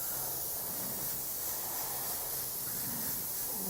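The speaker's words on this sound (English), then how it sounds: "I'm going to spray more from the side now" A spray gun sends magenta paint onto a resin game piece in a steady, even hiss that stays level and close throughout.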